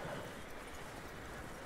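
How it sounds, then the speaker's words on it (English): Horse hooves clip-clopping in Red Dead Redemption, a steady, moderately faint trotting rhythm over a short stretch with no talk. "Yo, I got myself a new horse."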